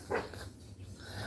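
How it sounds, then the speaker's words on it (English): Small dachshund giving one brief, fairly soft bark, followed by low background noise and no further barking. "He barks."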